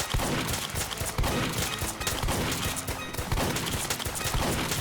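Rapid bursts of fast-firing gunfire in the Roblox game Too Many Weapons Simulator crackle in fast, repeated volleys with sharp impacts, continuous and loud throughout.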